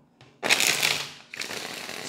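Tarot cards are shuffled in two quick riffling bursts, a crisp flutter that fades and then starts again, close by and with no talking.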